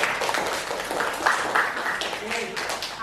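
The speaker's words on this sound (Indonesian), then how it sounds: "Beri aplaus yuk buat teman-teman" A classroom of students applauds fellow students, a short steady patter of clapping from a group in a room, mixed with some voices.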